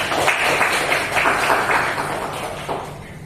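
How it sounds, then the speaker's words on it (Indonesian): Classroom of students applauding a group after a presentation, a burst of many hands clapping close by that gradually thins and fades over about three seconds. "Silakan diberikan tepuk tangan kepada kelompok."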